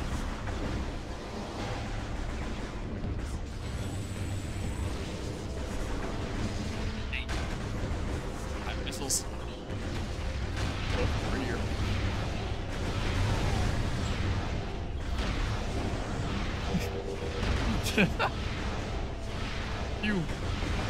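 Sniper shots and combat bursts from multiplayer in the video game Metroid Prime 2: Echoes, a dense mix of blasts and pops under steady game noise with someone talking throughout.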